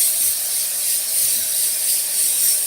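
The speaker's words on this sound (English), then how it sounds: "we're gonna get the Pam. You want to spray all around." Pam cooking spray is sprayed around the inside of a baking pan for brownies, making a loud, continuous close-up aerosol hiss that holds steady with slight pulses throughout, with no voice.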